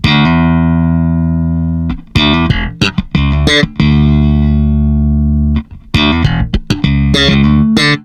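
Loud, sustained bass guitar notes through an Aguilar TLC Compressor blend control ring out with a smooth, even tone, broken by short gaps and quick plucked runs; no voices.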